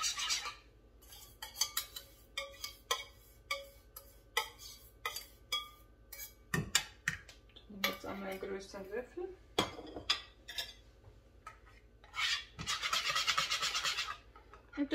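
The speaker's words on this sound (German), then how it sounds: "In dem Moment halt kräftig umrühren." Batter stirred vigorously in a bowl for a berry cake, with repeated scraping and clinking strokes of a utensil against the bowl, close and fairly quiet, briefly under a little speech.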